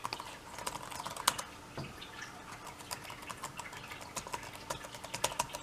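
Keys on a Lenovo B570 laptop keyboard are tapped in quick, irregular bursts of sharp clicks, close and fairly quiet, as each key is tested after a keyboard replacement.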